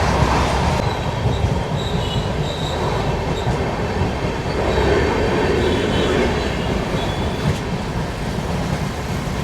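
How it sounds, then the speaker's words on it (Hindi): A train rolls steadily past a railway level crossing in India, loud and close, with a continuous rumble of wheels on rails and faint squeals, and no talking over it. "ट्रेन क्रॉस हो रही है।"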